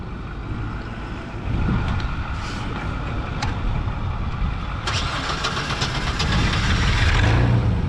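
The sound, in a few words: Hyster H80FT propane forklift engine starting and running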